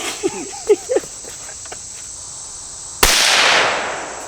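A .22 Magnum rifle fires one sharp, loud outdoor crack whose echo trails off for about a second, after a few brief voice sounds and chirping insects.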